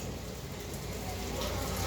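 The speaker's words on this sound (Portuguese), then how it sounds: "Observamos esta chuva, bênção de Deus." Rain falls steadily during an outdoor morning church service in Bacabal, Brazil, a constant broadband hiss that holds evenly throughout with no talk.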